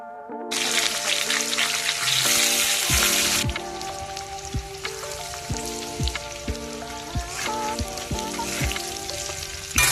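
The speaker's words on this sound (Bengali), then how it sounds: "এবার আমাদের যে আলুটা রয়েছে ওটা ভেজে উঠিয়ে নেব।" Potatoes fry in hot oil with a loud, dense sizzle that eases off after a few seconds, and a low hum runs steadily underneath.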